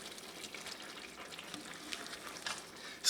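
A pot of Irish stew made with beer and chocolate bubbles over high heat as it is gently stirred, giving a quiet, steady sizzle with faint soft stirring swishes.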